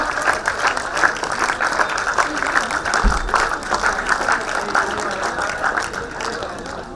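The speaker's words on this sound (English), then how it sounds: "Please give them a bigger round of applause." A standing ovation at a fintech conference fills the room: a large audience claps steadily and loudly for the full stretch, a dense continuous patter with a brief low thump partway through and faint crowd murmur beneath.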